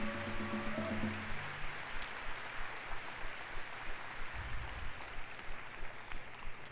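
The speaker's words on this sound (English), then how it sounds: "So if we can give him a round of applause." At a conference gathering, a young dancer receives a soft, distant round of applause: a faint, even patter of many hands. A low tonal hum can be heard briefly at the start.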